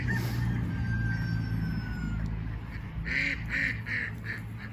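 Chickens under a trampoline cluck and murmur close by over a steady outdoor hum, with a few louder clucks and squawks toward the end.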